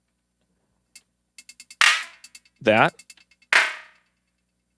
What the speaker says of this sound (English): Were they doubled every other, or what was happening with the clap snare situation?